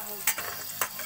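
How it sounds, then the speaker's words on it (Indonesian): Shallots fry in hot oil in a home kitchen, a constant soft sizzle broken by two sharp scraping stirs of a utensil against the pan. "Bawang merah goreng."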